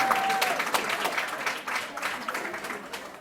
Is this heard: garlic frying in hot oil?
no